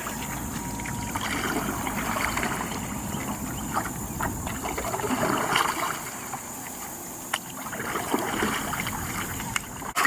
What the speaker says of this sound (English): we're going to reach back, bend our knees, and do a little backstroke.